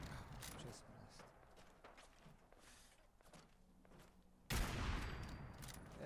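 A single loud gunshot in the Fallout 4 game, sharp and sudden near the end, following a stretch of quieter scuffling and faint shots, with its blast tailing off afterward.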